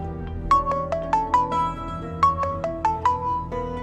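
A phone message notification tone in a Hindi TV drama, a bright electronic melody of short descending chimes played twice in quick succession, clear and close with no voices.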